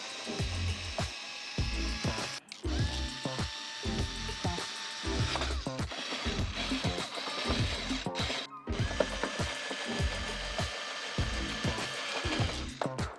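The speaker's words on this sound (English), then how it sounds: "So we already have a screwdriver here. Just going to try to tighten it up." Screwdriver tightening the screws on a Samsung Odyssey G9 Neo monitor stand, a ratcheting, clicking mechanical rattle in repeated bursts with short pauses between turns, close and fairly loud.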